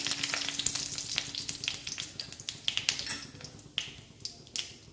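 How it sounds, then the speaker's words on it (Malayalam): Mustard seeds and curry leaves crackle in hot oil for a Kerala kalan tempering, with sharp, irregular pops and snaps over a steady sizzle, loud and close throughout. "നമ്മൾ കടുക് പൊട്ടുന്ന ഒപ്പം തന്നെ നമ്മൾ കറിവേപ്പിലയും കൂടി ഇട്ട് കൊടുത്തിട്ടുണ്ട്"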